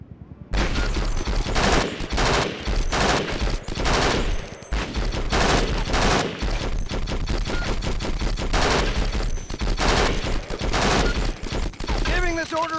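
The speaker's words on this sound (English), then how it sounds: "I want you to order your men to open fire" A squad lets loose on training targets in Conflict: Desert Storm 2, loud sustained bursts of automatic rifle and machine-gun fire rattling almost nonstop for several seconds, with a brief voice near the end.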